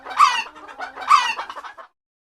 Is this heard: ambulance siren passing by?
no